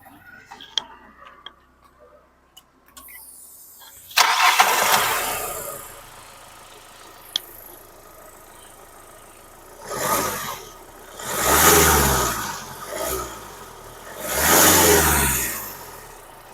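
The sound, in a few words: Hyundai Creta car engine starting and running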